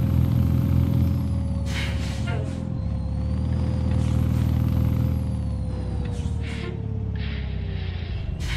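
Truck air brakes in American Truck Simulator release several sharp hissing bursts over a steady low engine drone, with a continuous whine running throughout.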